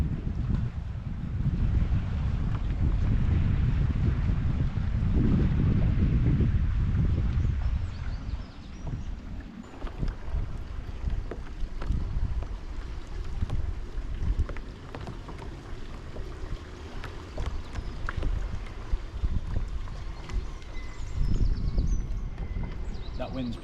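Wind buffets the microphone on a UK shoreline during inshore bass lure fishing, a steady low roar and rumble that stays loud throughout and eases slightly partway through.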